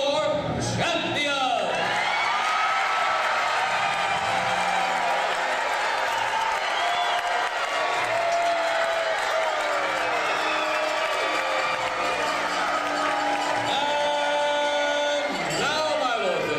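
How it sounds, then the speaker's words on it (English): An arena audience at a medieval knights show cheers loudly for their champions, a sustained wash of shouts and whoops with a ringing tone and an announcer's voice at the edges. "Raise a cheer for your champion!"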